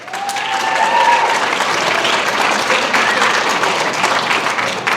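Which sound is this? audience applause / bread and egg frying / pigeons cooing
audience applause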